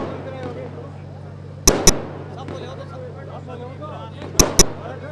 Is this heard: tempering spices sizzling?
no